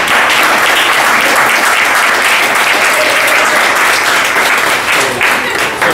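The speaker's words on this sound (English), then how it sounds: "So an applause for everybody" Loud, sustained applause from a panel discussion audience, dense clapping from many people that fills the room evenly from start to finish.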